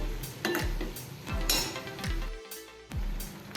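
A spoon knocks and scrapes around a pan as jaggery is mixed into carrot halwa, several distinct metallic clinks and scrapes at close range with no voices.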